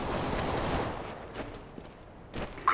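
Gunfire in Counter-Strike: Global Offensive deathmatch training. A loud burst of shots opens, then fades into reverberant echo, followed by a few scattered shots and a sharp impact sound near the end.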